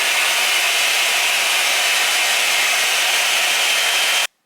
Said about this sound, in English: Then I'm going to blow dry.